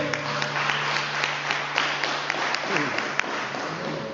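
Church congregation applauding at the end of a service, a continuous wash of clapping with a few louder claps, moderately loud, with a faint steady tone running underneath.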